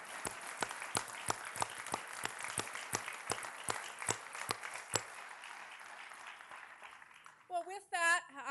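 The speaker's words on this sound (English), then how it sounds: "Give them a round of applause for their leadership." Applause from an audience at a Metro Transit gathering, a few loud sharp claps over a steady spread of clapping that fades out after several seconds before a voice begins to speak.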